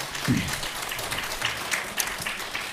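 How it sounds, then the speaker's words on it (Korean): Studio audience applause on a Buddhist monk's televised talk show, a short burst of dense clapping under a lively room. "박수로 감사합니다."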